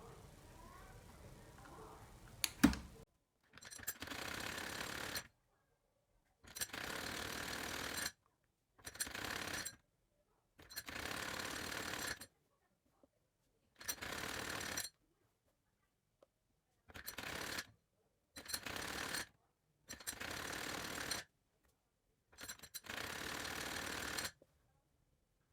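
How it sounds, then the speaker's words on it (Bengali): A sewing machine stitches a sleeve onto a round kameez in about ten short separate bursts of fast, clattering stitching, each lasting a second or two and split by silent pauses, after a brief rustle of handling at the start. "এখন আমি সেলাইটা দিব।"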